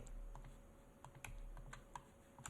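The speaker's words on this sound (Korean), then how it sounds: "키보드 넘패드 1을 눌러서 정면에서 본 다음에" Soft key presses tap on a computer keyboard's numpad, a handful of light clicks spaced irregularly over a quiet background, while working in Blender 3D modeling software.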